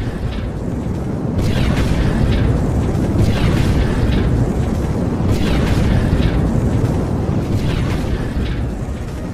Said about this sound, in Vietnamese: lúc này tiếng pháo và tiếng bom nổ gần như không phút nào ngơi nghỉ